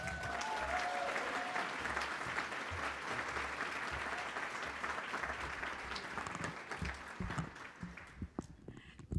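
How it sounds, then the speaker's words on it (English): A crowd applauds at a community awards ceremony in a library setting, steady dense clapping that gradually thins into scattered individual claps near the end. "Big round of applause for Kathy Russ."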